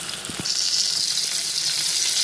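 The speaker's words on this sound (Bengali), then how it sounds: "দুই টুকরো দারচিনি পাঁচটা এলাচ দিয়ে আবার একটু এক মিনিটের মতো ভেজে নেব" Whole cinnamon pieces and cardamom pods frying in hot oil with onions for beef bhuna, a steady close sizzle that swells after a brief soft knock and holds bright and continuous.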